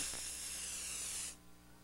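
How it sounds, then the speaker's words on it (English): Aerosol antiperspirant from a leading brand sprays in one steady, loud hiss of about 1.3 seconds, then cuts off abruptly into quiet room tone. "This is the leading aerosol antiperspirant brand."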